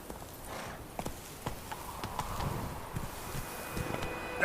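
Hoofbeats of the horse Roach galloping in The Witcher 3, a quick irregular clip-clop at moderate distance with light wind noise and no talking.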